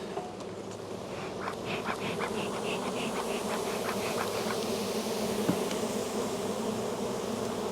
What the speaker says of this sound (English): there's so many bees, I just can't deal with them